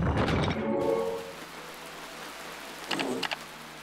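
Rain patters in the Death Coming game, a soft hiss that follows a brief crashing burst at the start and ends with a short flurry of heavier splashy hits, with no talk.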